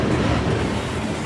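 A freight train slows to enter CSX Hialeah Yard in South Florida, giving a steady, close, rumbling roar of rolling cars with no break.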